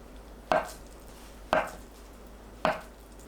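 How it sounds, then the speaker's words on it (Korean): A knife cutting washed tofu into 1 cm thick slices, three crisp separate thunks against the board about a second apart, close and clear in a quiet room. "씻은 두부는 물기를 닦아냅니다. 1cm 두께로 썰어주세요."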